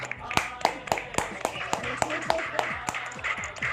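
An audience claps at a gathering in a rhythmic, fairly loud series of sharp, near-regular beats, about three per second, as the crowd keeps time together; voices murmur faintly beneath.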